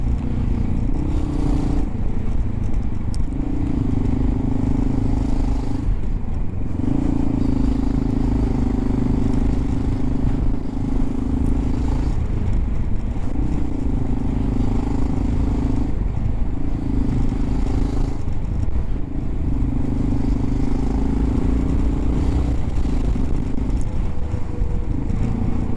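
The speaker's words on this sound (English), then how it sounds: "I think this bike sounds pretty good, though." Honda XR650L motorcycle with an upgraded fuel tank, its single-cylinder engine running steadily at moderate volume for the whole stretch, a continuous throbbing drone with periodic rises and dips in pitch as it rides along, no talking.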